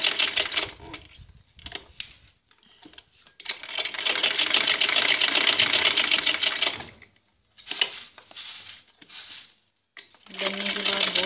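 A sewing machine stitches across the corner of a salwar pouch, running in several loud bursts with brief pauses between them.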